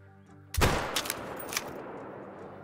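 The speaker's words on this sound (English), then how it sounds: "We're going for a shot with a 22-250 here." A single loud rifle shot from a 22-250 hunting rifle in the Call of the Wild hunting game, fired at a whitetail deer: a sharp crack after quiet ambience, followed by a rolling echo that fades over the next second.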